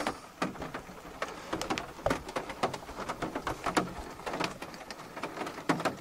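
Rain patters on a rooftop tent with close, irregular taps of drops on the fabric, steady and fairly quiet, and no one speaking.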